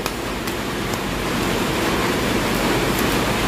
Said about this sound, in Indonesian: hujannya makin deras, apakah kedengaran?